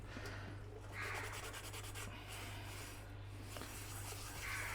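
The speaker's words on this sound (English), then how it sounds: "a scrub here and a scrub there." Steady abrasive scrubbing of black soot from blackened campfire cookware, a continuous close rasping rub with slight rhythmic swells, alone over a low constant hum.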